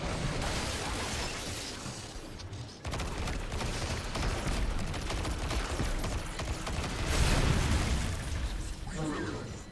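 Rapid bursts of gunfire from a weapon in the video game Destiny 2, dense and crackling throughout with a brief dropout, layered with game noise and talk.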